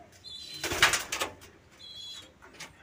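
Pigeons in a loft, blue bar birds among them, give a burst of wing flaps and rustling with faint soft coos, close by and fairly quiet, fading after a couple of seconds.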